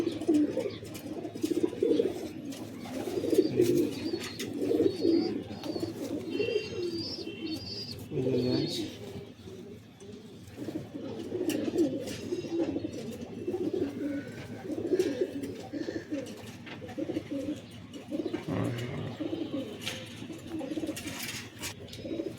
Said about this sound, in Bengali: কালদমা ম্যাড্রাস চটিয়াল, নর পায়রা।